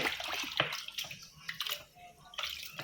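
A kitchen stove hood is scrubbed with a brush, hot water and cleaner, giving close, uneven wet brushing strokes with sloshing water.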